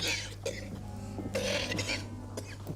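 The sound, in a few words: cough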